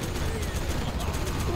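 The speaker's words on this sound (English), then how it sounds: "Mini guns will destroy the enemy." In the Generals Zero Hour video game, minigun fire from an in-game battle sounds as a dense, continuous rattling burst with a low rumble, steady and loud throughout.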